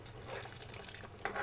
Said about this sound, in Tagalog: Magdagdag ng konting tubig